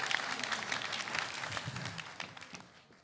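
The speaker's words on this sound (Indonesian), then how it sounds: "boleh beri tepuk tangan untuk STT Banjar Tanggahan Tengah" A Balinese village quiz audience applauds the STT Banjar Tanggahan Tengah team with a dense, steady round of clapping that trails off toward the end.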